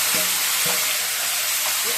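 Chicken pieces sizzling loudly in oil with golden-fried garlic in a home kitchen, a steady frying hiss with a few brief stirring scrapes.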